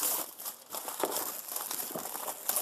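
Plastic shrink wrap on a King of New York board game box crinkling and crumpling up close as it is pulled off, a busy irregular rustle with no speech.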